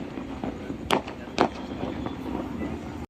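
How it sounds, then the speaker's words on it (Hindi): Two sharp firecracker bangs ring out about half a second apart during Diwali, over a busy outdoor background murmur. "और ये पटाखों की आवाज़ सुन सुन के मेरे कान दर्द हो गई है यार"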